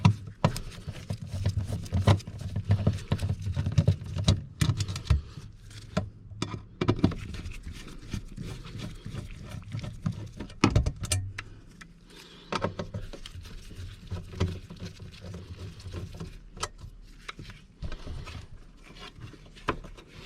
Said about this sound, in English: we're going to take our Phillips head screwdriver and pop these 4 screws out.